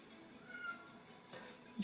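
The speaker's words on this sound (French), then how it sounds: "Il pleure tout le temps, ce chat." A cat cries indoors in a few short, faint meows spread over a couple of seconds, with only quiet room noise around them.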